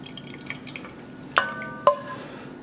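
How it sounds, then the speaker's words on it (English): Tomato puree is worked through a sieve for garden tomato soup: soft scraping and stirring, then two sharp ringing metallic clanks of a utensil against the strainer, close by and without speech. "you discard this for your compost pile and repeat until you've strained it all"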